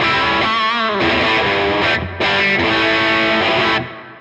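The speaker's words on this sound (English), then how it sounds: "So same thing again, back to the humbucker guitar. The overdriven amp sounds like this." Humbucker electric guitar through an overdriven amp plays loud, sustained distorted chords with a thick, saturated tone, briefly dropping out near the middle before ringing on again and then trailing off.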